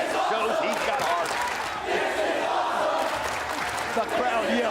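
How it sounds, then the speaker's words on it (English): A wrestling crowd at a TNA X Division title match roars and chants in unison, a loud, sustained wall of massed voices filling the arena throughout. "The crowd yelling, "This is awesome!""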